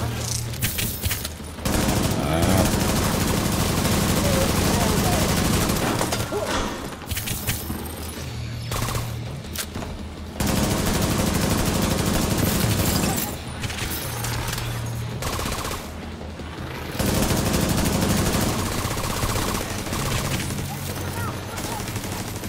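Gunfire in the video game The Division 2, played on PS5: repeated loud bursts of automatic fire and rapid shots in several long volleys separated by short pauses.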